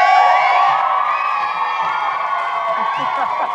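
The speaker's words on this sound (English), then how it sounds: "It's real applause." A live TV studio audience cheers loudly with high excited shouts and whoops, sustained and close, with scattered clapping mixed into the din.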